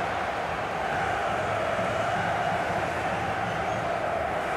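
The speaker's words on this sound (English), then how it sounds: "Well, just listen to this crowd." Stadium crowd in an FC Mobile football match, a steady, dense roar of many voices holding at an even, loud level throughout with no breaks.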